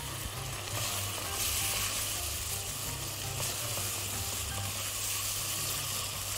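Tomato paste sizzles and hisses steadily in a hot pan as it is stirred, a close, continuous frying crackle with soft scraping, for a chicken shish tawook with curry sauce, and no one talks.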